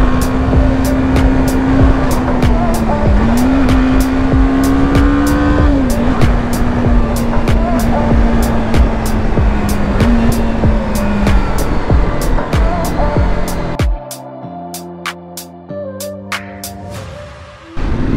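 A BMW 310 GS motorcycle with a 300 cc engine accelerates on a road, its engine note holding a steady droning pitch with rising and falling shifts, loud and close, before easing off near the end amid traffic noise.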